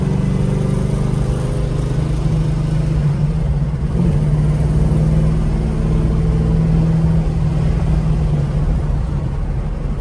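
A car engine driving along in third gear as it slows down, a loud steady droning hum with a low tone that holds and shifts slightly, heard close up with no talk.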